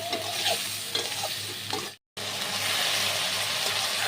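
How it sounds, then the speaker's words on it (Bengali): Salt, turmeric and ginger paste being stir-fried in a pan for a prawn and pumpkin greens dish, a dense close sizzle with stirring scrapes, cut by a brief gap midway before resuming steadily. "তো ভালো করে একটু কষিয়ে নিতে হবে।"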